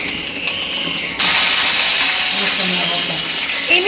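Garlic and mustard seeds hit hot oil for an onion sambar tempering, a faint hiss that jumps to a loud, steady sizzle partway through and keeps crackling.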